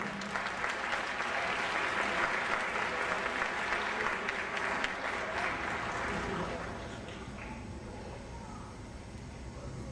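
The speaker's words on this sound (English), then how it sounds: "Let's give a round of applause for Steve Mitchell." Crowd applause at a Martin Luther King Jr. Day gathering, sustained clapping from many hands that holds steady, then thins and fades toward the end.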